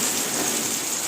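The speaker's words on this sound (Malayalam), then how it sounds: "നല്ല മഴ പെയ്യുണ്ട് ശക്തമായ മഴയുണ്ടോ" Heavy rain pours steadily, a dense, constant hiss of drops with no pauses, close and loud throughout.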